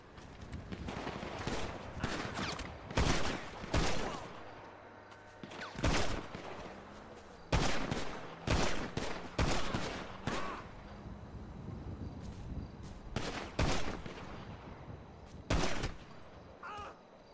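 Bursts of automatic and single gunfire ring out in the GTA roleplay game NoPixel 4.0 during a pawn-shop robbery, loud rapid volleys repeating across the stretch with brief gaps.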